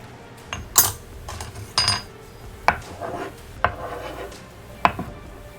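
Knife slicing ginger thinly on a cutting board, a handful of sharp irregular taps and scraping cuts, close and clear, with a faint background hiss between strokes.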